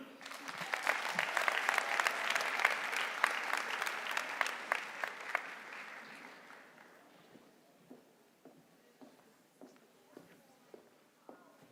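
Commencement audience applause at a community college swells into a full round of clapping, then thins out until only a few scattered claps remain, faint and spaced apart at the end.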